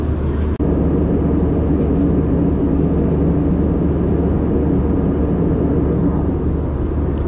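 Steady, droning roar of an airliner cabin during descent over the Alps, loud and unbroken, with a single brief click near the start.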